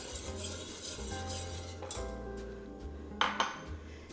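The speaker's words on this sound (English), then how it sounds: "You just kind of want to stir that in until it's well blended" A utensil stirs sugar into sweet and sour sauce in a pan, with soft scraping and clinks that end in a couple of sharp metallic taps near the end.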